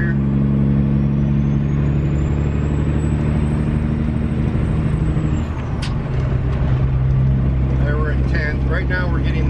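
A semi truck's diesel engine drones loud and steady from inside the cab after the 18-speed transmission is shifted into ninth gear, with a faint rising whine, a brief dip near the middle and light rattling toward the end.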